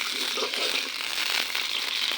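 Small ichha shrimp sizzling and crackling in hot oil in a home kitchen, being cooked for a red amaranth greens dish; a steady, close hiss with fine popping throughout, no talk.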